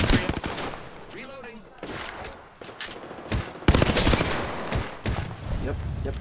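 Gunfire in the video game Apex Legends, bursts of rapid shots and fusillade layered with game effects, fairly loud and continuous across the clip, with players talking over it.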